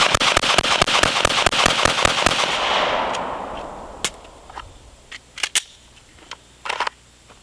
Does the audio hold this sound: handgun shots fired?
yes